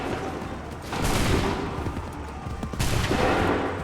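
Musket volleys ring out on a battlefield in Assassin's Creed III Remastered, with two loud, dense rolls of massed gunfire about two seconds apart over constant combat din.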